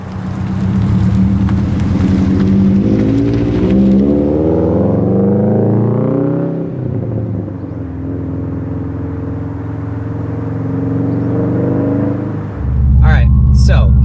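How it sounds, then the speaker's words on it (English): A 2018 Subaru STI drives along, its engine note climbing through the gears, dipping on a shift, then rising again as the car pulls away. The engine is loud and close, and a louder burst comes near the end. "This is my 2018 Subaru STI."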